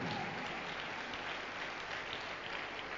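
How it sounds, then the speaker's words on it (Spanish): Steady audience applause at a church sermon, a continuous wash of many hands clapping for the Lord, heard faintly and evenly throughout without any voices. "Un aplauso grande para el Señor, amén."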